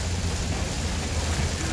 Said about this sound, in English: True to form, got in the truck, started heading here, and it started to rain.